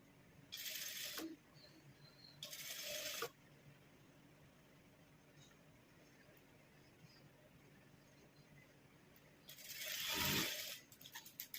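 Sewing machine stitching the sleeve of a blouse: a few short bursts of fast, buzzing mechanical whirring, close and loud, separated by quiet pauses, with a final longer run near the end.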